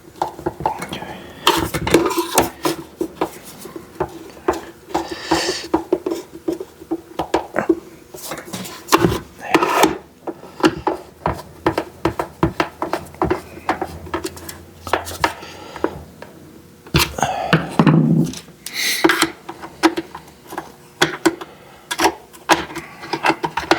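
Screws being tightened back into an electric heater fan during a repair: irregular metallic clicks, scrapes and taps of a screwdriver on a plastic and metal housing, close up, with occasional speech.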